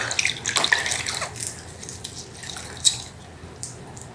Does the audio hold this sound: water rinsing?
yes